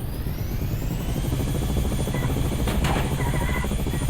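A helicopter's rotor in the video game Dude Theft Wars drones steadily and loudly throughout, a constant whirring thrum with no voices.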